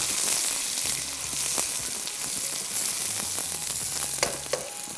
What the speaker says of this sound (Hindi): 1 अदद बड़े साइज़ का प्याज इसमें फ्राइंग शुरू हो जाएगी इसकी